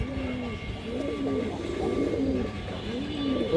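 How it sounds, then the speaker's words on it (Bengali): Large Rampuri female pigeon cooing up close, soft rolling coos repeating in a steady rhythm over a low background murmur. "বড় সাইজের একটা রামপুরি মাদি কৌতর"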